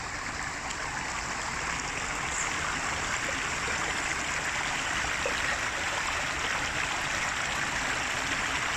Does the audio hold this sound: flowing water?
yes